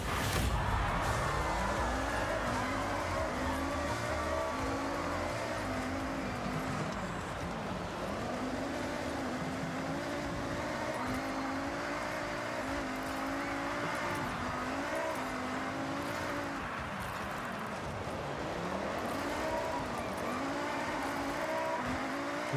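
A Mazda race car in a racing video game drives continuously, its engine note rising and falling through sharp turns with faint tire noise. The sound is steady and moderately loud throughout.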